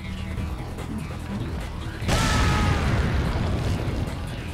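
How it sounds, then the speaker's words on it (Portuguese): A grenade explodes in Resident Evil 4 HD, a sudden loud burst that cuts into ongoing game noise and sustains a dense rumbling roar afterward, with a player talking over the gameplay. "Uma granada."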